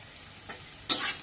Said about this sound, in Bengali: এবার আলুটা তিন চার মিনিট একটু ভেজে নিয়ে